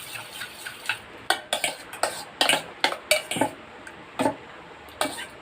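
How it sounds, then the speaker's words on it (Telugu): Eggs with onions, chilli and tomato are mixed for a bread omelette, with a utensil striking a bowl in quick irregular clinks and taps, close and fairly loud. "ఇందులో ఆనియన్స్, చిల్లీ, టమాటో ఇవి వేసి మంచిగా మిక్స్ చేసుకోండి."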